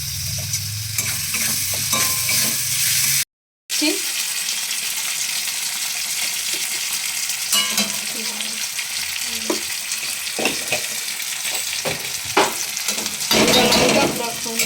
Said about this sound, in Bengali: লবণ দিয়ে দিচ্ছি তারপর দেখো টমাটো দিয়ে দিচ্ছি